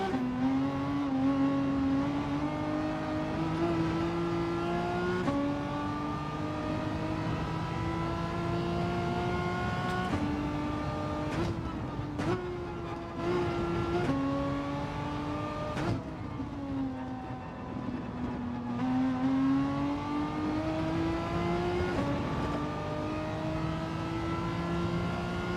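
Race car engine in Gran Turismo 7 revving hard, its pitch climbing and dropping through repeated gear changes with brief cuts, loud and continuous for the whole stretch, with no voices.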